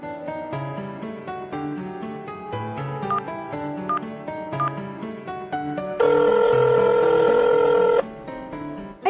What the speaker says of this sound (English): Now dial the emergency number and report to the police.